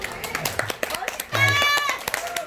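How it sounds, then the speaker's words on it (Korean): Scattered, irregular hand claps from a crowd at a kkangtong pumba street performance on Wolpo Beach in Pohang. The claps are mixed with a talking voice and a brief sustained tonal sound. "우리 전파리 그만이 박수 한번 쳐주세요"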